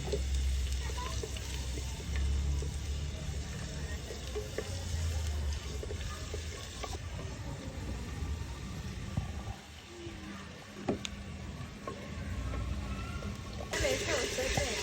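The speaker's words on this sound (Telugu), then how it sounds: "మనం ఫస్ట్ అల్లం వెల్లిపాయ పేస్ట్ వేస్తున్నాం. మంచి టేస్ట్ వస్తుంది." Ginger garlic paste frying in oil for a traditional country chicken curry, a steady close sizzle and crackle running throughout with occasional stirring clatter.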